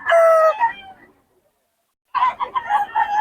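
A gamefowl bullstag rooster crows loudly and close by at a market, one drawn-out call, a pause of silence, then a second crow, with no talk over it.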